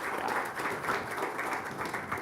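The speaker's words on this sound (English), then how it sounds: "Give her a round of applause." An audience at a radio industry conference panel applauding a panelist: a short, even burst of many hands clapping, fairly faint and continuous throughout.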